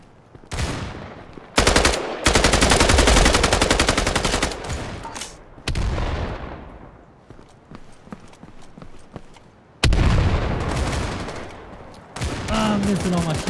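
Gunfire in Battalion 1944, with bursts of rapid automatic fire and single shots in separate loud volleys, broken by short gaps and a few fainter shots between.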